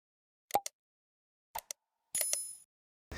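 Short bright notification dings and chimes sound in separate quick bursts against silence, a few clean tonal hits spaced apart, ending with a brief rush of noise.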